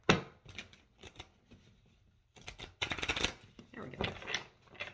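Quiet riffling and flicking of a deck of cards being shuffled, in short irregular bursts close by, with some soft speech-like sounds between.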